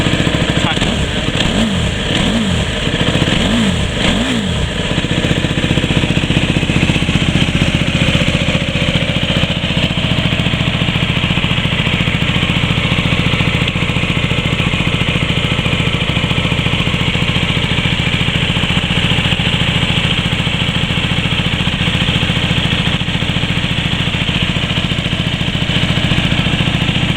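A KTM RC8 sport motorcycle engine blips through several quick revs, then settles into a steady, throbbing idle, loud and close throughout.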